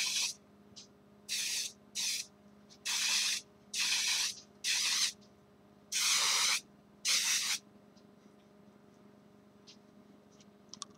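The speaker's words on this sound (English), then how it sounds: "just take some freaking hairspray, fluff your hair out" Hairspray hisses from an aerosol can onto hair in about eight short, separate bursts of roughly half a second to a second each, close and fairly loud against a quiet background, with no one talking.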